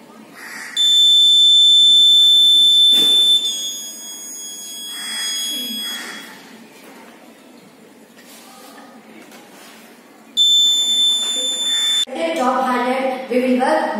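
Electronic alarm tones from a prototype cattle alert system for crops sound in two bursts, a steady high-pitched beeping pattern, with quieter background noise and a short break between the bursts.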